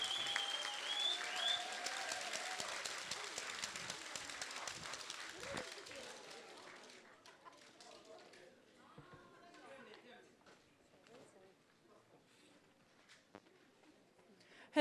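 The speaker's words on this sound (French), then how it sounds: "Allez, on applaudit, sortez vos claps" A crowd at a team pitch event applauds together, a dense wash of clapping and a few cheers that fades over several seconds into quiet room murmur and shuffling, with a person speaking faintly near the end.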